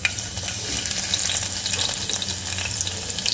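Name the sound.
crushed garlic frying in tempering oil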